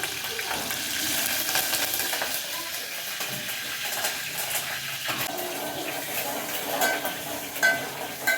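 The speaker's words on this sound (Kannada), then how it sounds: "ಈರುಳ್ಳಿ ಕರಿಬೇವು ಸಾಸಿವೆ ಫ್ರೈ ಆಗಿದೆ" Onion, curry leaves and mustard seeds sizzling and crackling in a hot pan, a steady frying hiss with occasional soft clatter of stirring.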